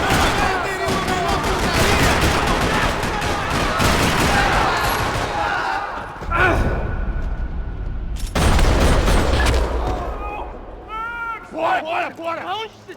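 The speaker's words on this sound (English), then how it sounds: "Another parking lot rattling with gunfire" Gunfire in the video game Max Payne 3 in a parking lot, bursts of rapid shots and booms that rattle over the first half, then sharper isolated blasts, with voices and shouting breaking in near the end.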